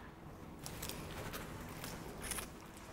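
Someone bites into crisp, fresh napa cabbage kimchi made with tangerine peel, giving a few close, sharp crunches followed by wet chewing.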